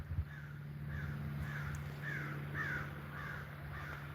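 Crows caw in a faint, steady series of about seven repeated calls, distant over a low background hum.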